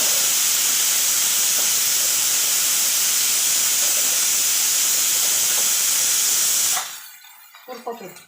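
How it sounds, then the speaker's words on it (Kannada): Garlic, curry leaves and ginger fry in a hot pan with a loud, steady sizzle that runs for about seven seconds, then cuts off abruptly, leaving only faint scattered clinks. "ಬೆಳ್ಳುಳ್ಳಿ ಗಡ್ಡಿ ತೊಗೊಂಡೀನಿ, ಇದ್ರಾಗ ಹಾಕಿ ಹುರ್ಕೋತೀನಿ"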